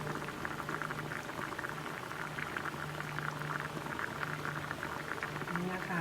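Thai red curry with coconut milk boils in a pot, a steady, fairly quiet stream of bubbling and popping that carries on evenly throughout.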